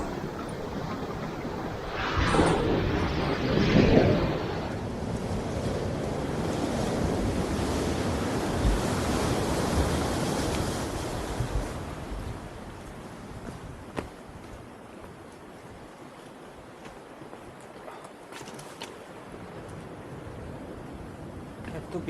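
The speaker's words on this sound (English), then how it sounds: "To be careful with those big waves because they still splashing in here." Big sea waves crash and splash against the rocky shore of Wild Pear Beach in North Devon, a loud surge early on easing into a steady wash of surf with wind buffeting the microphone.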